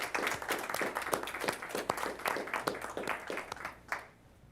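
Council meeting audience breaking into applause, a dense round of clapping from many hands that holds steady and then tapers off near the end, moderately distant.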